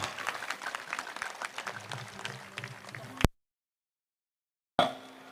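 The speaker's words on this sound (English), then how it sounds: "May I request everyone to put your hands together for a big round of applause" A crowd at an International Day of Yoga event applauds in a steady wash of many hands, which stops abruptly into silence before a brief burst of sound returns at the end.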